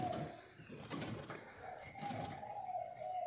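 A caged songbird offered for sale calls with a sustained, clear whistling note repeated over a few seconds, close and fairly loud against light background noise, with no talking.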